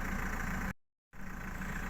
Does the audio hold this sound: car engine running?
yes